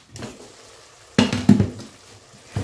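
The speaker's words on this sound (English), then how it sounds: "Final stirring, I promise. Nigerian soup comes with a lot of stirring." A spoon stirs Nigerian egusi soup in a pot, giving a few close scrapes and knocks against the pot in short bursts, with quiet gaps between and no talking.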